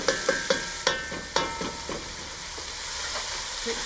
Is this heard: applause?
no